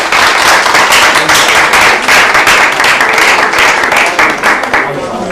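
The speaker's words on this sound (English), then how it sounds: "people give them a round of applause." Loud, dense audience applause rolls on steadily for several seconds for the panelists at a Clark Atlanta University public relations event, fading slightly at the end.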